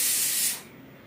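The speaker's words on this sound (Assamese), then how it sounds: "আৰু কুকাৰ পাতি থৈ দিছোঁ। ভাতখিনি হোৱা নাই, চিটিটো মাৰিয়ে আছে।" Pressure cooker whistle on rice releasing a loud, steady steam hiss that cuts off abruptly about halfway, leaving quiet room background.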